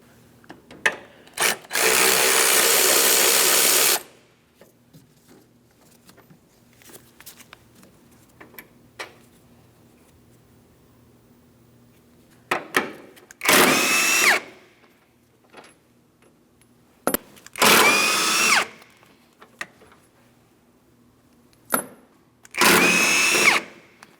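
A power tool drives off the 18mm front strut mounting bolts on a 2003-2007 Cadillac CTS. It comes in four loud, close bursts: a long first run, then three shorter whirring spurts separated by quiet pauses.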